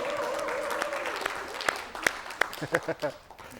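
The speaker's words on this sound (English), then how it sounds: "maybe we should give them a round of applause, the teddy bears." Retreat audience applauding for a moment, scattered hand claps that thin out into a few separate louder claps near the end, heard over a lingering voice.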